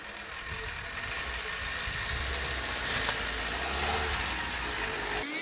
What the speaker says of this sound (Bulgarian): Ето как работи двигателя без масло.